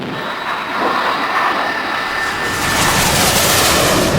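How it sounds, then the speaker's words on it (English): A Victor bomber powered by four Armstrong-Siddeley Sapphire jet engines takes off, a loud, broad roaring rush that swells sharply midway and holds strong. "the Victor was powered by 4 thunderous Armstrong-Siddeley Sapphire engines"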